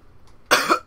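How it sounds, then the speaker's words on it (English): A single harsh cough bursts out after a quiet moment, close and fairly loud, trailing off quickly. "Bad cough today."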